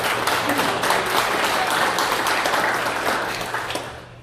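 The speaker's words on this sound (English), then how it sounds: "We'll clap for him anyway." A room of people at a veteran suicide prevention event claps for a local veterans coalition member, steady applause that tapers off near the end with a low hum underneath.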